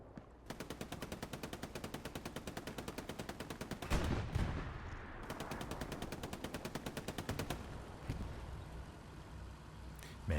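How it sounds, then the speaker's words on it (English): Machine guns fire during a competitive Hell Let Loose match in two long, rapid, evenly paced bursts, loud and close, separated by a short gap filled with other battle noise. "Mando and Hex manning the MGs here."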